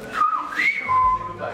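Silbo Gomero, the whistled language of La Gomera, is heard as a few loud, clear whistled tones that glide up and down in pitch in quick succession, close by.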